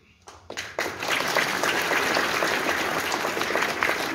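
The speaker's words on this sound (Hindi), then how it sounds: "ये तालियां हमारे पैरों को जकड़ देती हैं" An audience at a public talk on Sanatan thought in Haldwani bursts into applause, building after a couple of early claps into loud, sustained, dense clapping that continues to the end.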